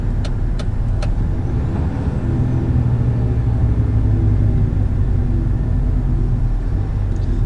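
A Scania G480 truck hauling a long trailer drives steadily, its low engine rumble constant and close throughout, with a few brief high clicks near the start and no talking.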